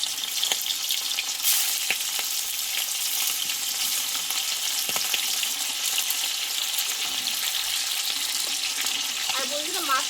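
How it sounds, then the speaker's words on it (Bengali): Silver carp pieces fry in hot oil with salt, a steady bright sizzle crackling continuously, close and even throughout with a few faint clinks. "এই তেলে আমি একটু মাছগুলো ভেজে নেব এই তেলটা আমি দেবো একটু লবণ দিয়ে মাছগুলোকে ভেজে নেবো"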